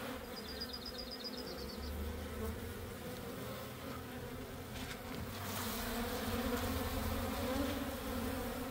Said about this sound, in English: there's a couple hundred bees still back there